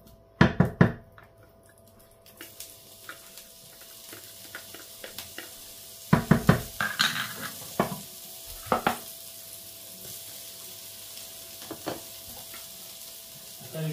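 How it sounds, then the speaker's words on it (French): Garlic and onion fry in hot oil in a pan on a home stove, a soft steady sizzle under sharp utensil clacks and scrapes that come in bursts, then quieter stirring taps. "On fait revenir un petit peu l'huile et on va faire revenir l'ail et l'oignon"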